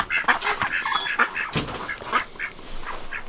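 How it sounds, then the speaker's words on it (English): Ducks quack over and over inside their coop on a cold day, a busy, close flock of overlapping honking calls with no pauses. "Usually we put the ducks in their coop, and they're just in here during the day"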